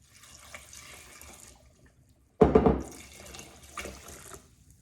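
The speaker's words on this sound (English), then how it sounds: "4 cups of water" Water splashes and pours into a soup pot with diced tomatoes in a short burst, loud and close, then settles into a softer trickle with light clinking.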